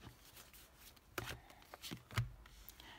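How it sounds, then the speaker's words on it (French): Tarot cards being laid out one by one on a table, giving a few soft, brief slaps and rubs against quiet room tone. "On pose les 6 cartes."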